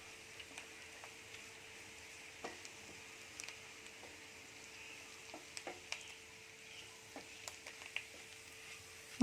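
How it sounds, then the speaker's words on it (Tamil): Mutton chukka with a little coriander is stirred in a pan, giving faint, sparse scrapes and clicks over a low, quiet sizzle, with no one talking. "இப்போ நம்ம கடைசியாக கொஞ்சமாக கொத்தமல்லி சேர்த்துட்டு மறுபடியும் இதை நல்லா கிளறி விட்டுக்கலாம்"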